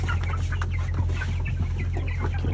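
Broiler chickens at one month old, a flock of 47 feeding, cluck and chirp continuously over a steady low hum, close and busy throughout.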